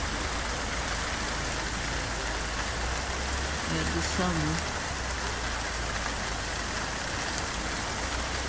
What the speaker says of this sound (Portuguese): Então começou a chuvarada agora.